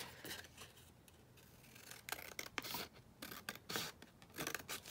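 Scissors trim a paper envelope pocket made from collage book pages, giving a few quiet, close snips and crisp paper rustles in short irregular bursts.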